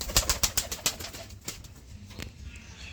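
A pigeon at a pigeon seller's, heard as a quick series of close, sharp wing claps and flutters followed by softer scattered flaps, with no voices.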